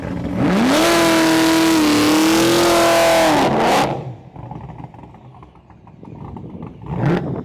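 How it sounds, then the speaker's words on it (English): A car engine, attempting a burnout, revs hard and steadily with a rising whine for about three seconds, then cuts off, leaving quieter rumbling and a brief rev near the end. "This man here is still trying to figure out how to do a burnout."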